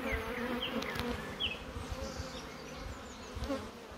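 Steady, dense buzzing of many honey bees up close, a continuous hum with occasional individual bees droning past.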